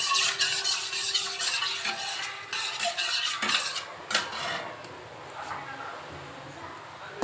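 Dried chillies, panch phoron, mustard seeds and bay leaves frying in hot oil for a mango pickle, a steady crackling sizzle with some stirring and utensil clatter near the pan throughout.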